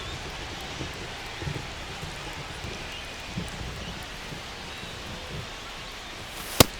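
Steady rain hisses over a ballpark in MLB The Show 25, a constant wash of noise with one sharp crack near the end.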